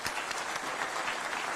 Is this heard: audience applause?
yes